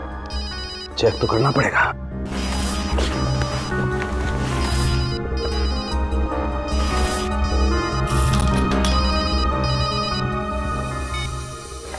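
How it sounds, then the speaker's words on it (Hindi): A mobile phone rings from inside a bag, its ringtone repeating steadily throughout while a person speaks over it, with background music underneath. "फोन तो इस बैग में से बज रहा है।"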